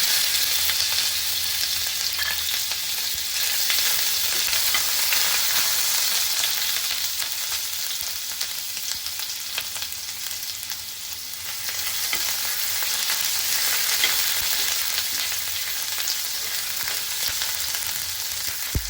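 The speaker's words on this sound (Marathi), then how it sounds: "तेल आपलं गरम झालं आहे पण आलं लसूणची फोडणी करूया" Ginger-garlic paste fries in hot oil with a loud, steady sizzle that runs unbroken and close for the whole stretch, without any talking.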